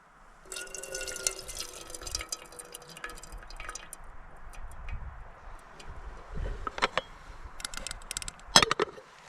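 Water trickles and drips into a camp pot for instant rice while a dehydrated backpacking meal is prepared outdoors, with faint splashes and scattered ticks and clinks of handling nearby.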